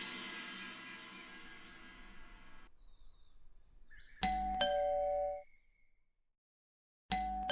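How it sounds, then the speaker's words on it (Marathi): A doorbell chimes twice in a ding-dong pattern, ringing clearly after some softer background noise, then rings once more at the end. "किती बेल वाजवणार"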